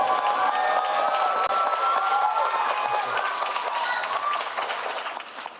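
A school board workshop audience gives a round of applause and some cheers for student Morgan Bignami. The sustained clapping runs under voices and fades slightly near the end.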